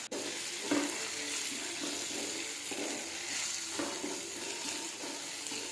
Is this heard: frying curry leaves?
yes